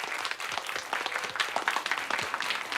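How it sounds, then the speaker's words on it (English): An audience of children and adults claps for a performer after a group singing lesson in South Africa. The applause is brisk and scattered and fairly close, with no speech over it. "Give him a big round of applause."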